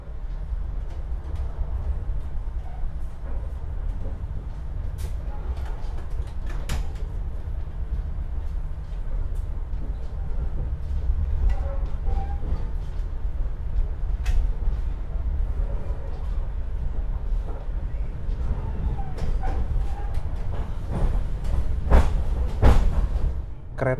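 An Indonesian passenger train, the Arjuna Express departing Surabaya Gubeng station toward Malang, rumbles along steadily at a moderate distance, with occasional clanks and rattles from the carriages.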